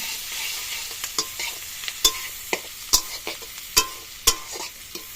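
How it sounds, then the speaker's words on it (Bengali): Onions frying in a pan over a wood-fired stove, cooked until deep golden, with a steady sizzle and repeated sharp scrapes and clinks of a stirring utensil, close and alone. "পেঁয়াজটা পুরো একদম বেরেস্তার মতন করে পুরো একদম ভেজে নিতে হবে"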